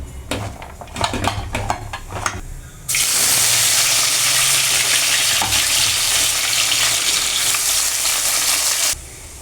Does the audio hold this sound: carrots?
yes